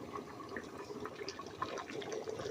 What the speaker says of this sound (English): Guys, see how the juices are bubbling up in that pot? Listen to the sound that this pot is making.